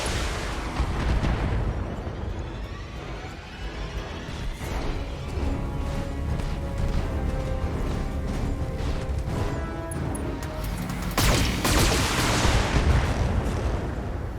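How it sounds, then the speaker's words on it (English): Mechs firing on turrets in the BattleTech video game, a dense barrage of heavy weapon blasts and explosions layered over each other, loud and continuous with a burst of extra impacts toward the end. "Shooting up the turrets, doing a good job so far, doing quite a bit of damage."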